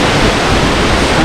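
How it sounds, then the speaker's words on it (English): A jungle waterfall in Chiapas, Mexico roars as a loud, dense, unbroken rush of water, close by and filling the whole moment with no voices. "this waterfall is truly impressive"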